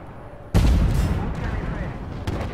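Video game gunfire, a sudden loud blast followed by a rumbling decay and another shot near the end, with a voice talking over it.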